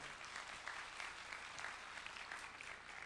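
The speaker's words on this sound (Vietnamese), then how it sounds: "Xin một tràng vỗ tay được không ạ?" Audience applause at a Philippe Starck talk in Ho Chi Minh City, greeting Casina Asia Pacific's commercial director: steady, dense clapping from a fairly large crowd, even and sustained throughout without voices over it.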